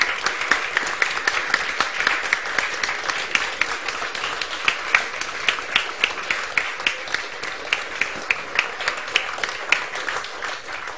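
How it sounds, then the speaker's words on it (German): A lecture audience applauds at the close of a German evening talk on the Reformation's legacy, a dense, sustained roar of many hands clapping throughout, with no voices over it. "Sie erhalten einen riesengroßen Applaus"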